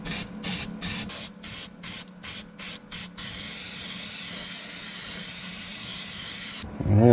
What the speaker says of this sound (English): just dust a little black spray paint on, just cheap stuff from Walmart